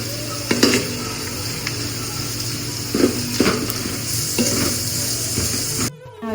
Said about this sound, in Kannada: ಏಲಕ್ಕಿ 1-3, ಪಲಾವ್ ಎಲೆ ಮತ್ತೆ ಸೋಂಪು. ಇದಿಷ್ಟನ್ನು ಸ್ವಲ್ಪ ಲೈಟಾಗಿ ಫ್ರೈ ಮಾಡ್ಕೊಳ್ಳಿ.